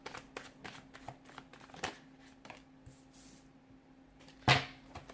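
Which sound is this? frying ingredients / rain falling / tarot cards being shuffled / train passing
tarot cards being shuffled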